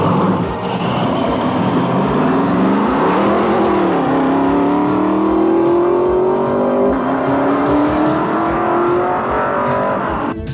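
A race car at the Silver State Classic open-road race revs and accelerates hard off the start line, its loud engine note climbing steadily in pitch through the gears close by, with no talking.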